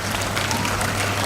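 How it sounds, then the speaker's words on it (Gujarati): An audience applauds to welcome a guest at a felicitation event for Indian Army soldiers, a dense and steady wash of clapping close by that fills the whole moment. "મૂર્તિભાઈને આપણે સૌ તાળીઓના નાદથી વધાવી"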